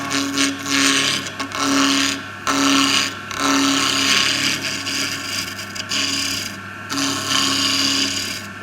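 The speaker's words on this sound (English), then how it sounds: "I'm going to take all the corners off here with the gouge" A wood gouge takes the corners off a chisel handle spinning on a lathe, producing a loud, continuous, close scraping and tearing with a rhythmic catch roughly every half second from the high spots, broken by brief gaps.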